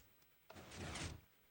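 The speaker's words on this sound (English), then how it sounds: "the pistons do open up" Minecraft pistons opening, a quiet mechanical thunk followed by a brief sliding whoosh that swells and cuts off within about a second.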